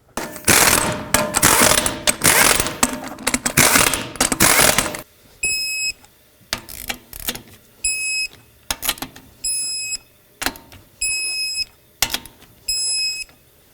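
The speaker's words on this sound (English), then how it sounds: "Start on all 5 of your lug nuts, snug them up, and then torque them to 100 foot-pounds." Wrench work on the wheel lug nuts of a Saturn Aura: a few seconds of busy, loud ratcheting, then a string of short, clear electronic beeps repeating at a steady rhythm with quiet gaps between them.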